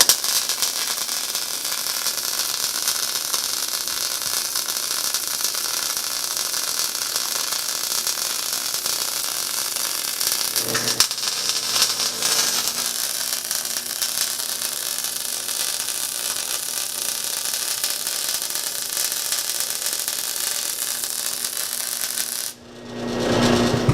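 A Harbor Freight Chicago Electric MIG 180 (model 68886) welder lays a MIG weld as a steady, loud crackling hiss that runs almost continuously for over twenty seconds, with a brief break midway, before cutting off near the end.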